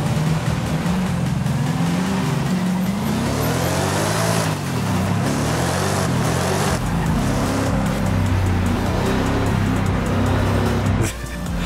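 A car in the racing game Forza Horizon 5 drives continuously, its engine droning loudly and rising and falling in pitch as it shifts and revs, with no talk over it.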